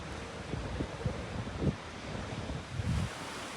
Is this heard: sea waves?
yes